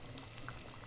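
Lentils boil in a pot with soft, continuous bubbling and faint popping, quiet and close, lasting under a second.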